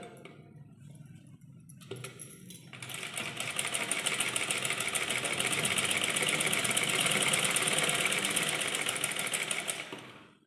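A sewing machine stitching cloth runs loud and steady, its rapid mechanical needle chatter starting after a few quiet seconds and continuing as a constant whirring rattle to the end, with no voices.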